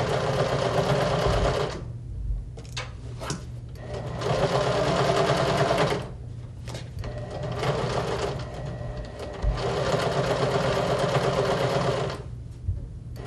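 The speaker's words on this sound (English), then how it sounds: "So we are gonna start sewing this around." A sewing machine runs in several sustained bursts of fast, even stitching through fabric with white thread, steady mechanical whirring broken by brief pauses, close and without talk.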